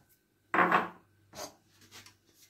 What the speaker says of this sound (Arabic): غادي نرش الدقيق